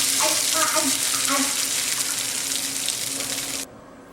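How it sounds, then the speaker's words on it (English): Marinated mutton shallow frying in a pan, a steady close hiss and sizzle with faint voice-like tones early on, cutting off abruptly near the end. "Then I shallow fried the mutton until it got a little charred on the outside."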